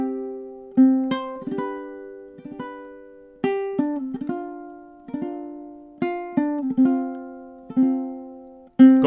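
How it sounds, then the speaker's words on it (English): Solo ukulele plays the opening four measures: plucked notes and soft chords ring out in a slow, even rhythm, close and clear, with no voices. "And then to hear this all together again, here's measures 1 through 4."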